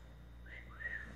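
A faint, wavering attempt at whistling with two short rising tones, thin and quiet over a low background hum, made by someone who admits she can't really whistle.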